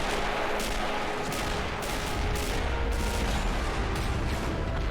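In Army Men of War, artillery and machine guns fire in a dense battle between toy soldier armies. Repeated sharp gunshot bursts and heavier booms land at a fairly regular beat over a constant loud background of combat.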